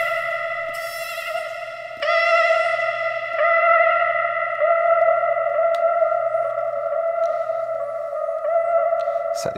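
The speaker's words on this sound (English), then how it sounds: "Let's chuck some reverb on." Sung vocal samples drenched in reverb and filtered inside the Samplr iPad app, sustained layered tones swelling and echoing in overlapping waves, steady and fairly loud throughout with no talking.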